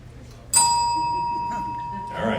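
A timer bell at a political debate forum gives a single bright ding that rings on with a long sustained tone, heard over low room noise, with a brief voice or crowd murmur near the end.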